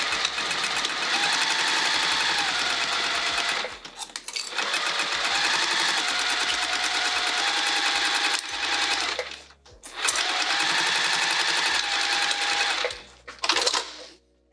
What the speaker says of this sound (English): let's sew this edge and back at the machine